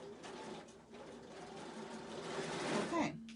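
A sewing machine runs slowly while stitching binding onto a quilt, giving a steady, close mechanical whir that builds slightly toward the end.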